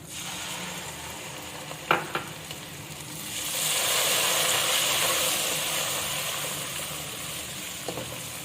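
Steady sizzling of ginger and garlic frying with onions in a pan, with a couple of brief clinks and stirring sounds; the hiss swells louder midway through.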